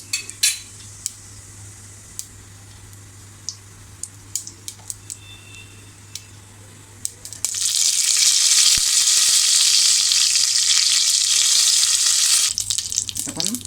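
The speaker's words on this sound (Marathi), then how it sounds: "राई चांगली तडतडली की आपल्याला कढीपत्ता टाकायचा आहे" Mustard seeds heat in oil in a pressure cooker, giving scattered sharp pops over a quiet background for about seven seconds, then a sudden loud, sustained sizzle that fades near the end.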